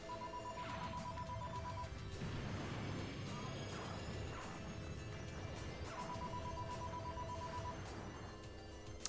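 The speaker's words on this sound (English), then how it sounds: "the ringtone on the phone upstairs, because we still have a landline here, she has the music from Apocalypse Now on the phone" A landline phone upstairs rings with a ringtone playing the music from Apocalypse Now, its repeating tonal phrases faint and intermittent beneath someone talking.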